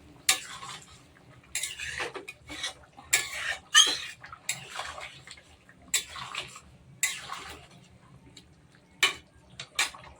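Metal spoon scraping and clanking in a pot as chicken is stirred with hot water in a village-style chicken kosha, sharp irregular bursts of clatter and sloshing close by, with quiet gaps between strokes.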